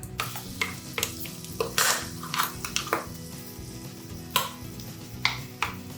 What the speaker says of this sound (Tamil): மீடியம் ஃப்ளேமில் வச்சுட்டு நல்லா இதை கலந்துக்கோங்க. இந்த விழுதை நம்ம எண்ணெயிலே வதக்குறதுனால நல்ல ஒரு ஃப்ளேவரும் டேஸ்ட்டும் கிடைக்கும்.